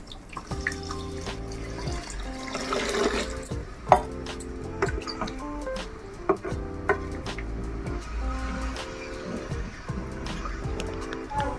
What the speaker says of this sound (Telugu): సరిపడినంత వాటర్ను పోసుకోవాలి.